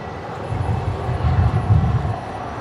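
A Qantas Fokker 100 airliner, about thirty years old, landing at Brisbane airport, a steady low engine rumble that swells slightly as it passes, fairly loud and continuous.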